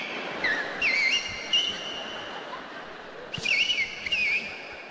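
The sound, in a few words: whistling imitating sheepdog commands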